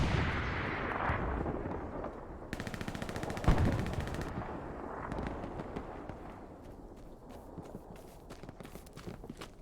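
Rapid machine gun bursts in a competitive multiplayer video game, a dense rattling volley peaking mid-clip among other loud battle noise, with no talk.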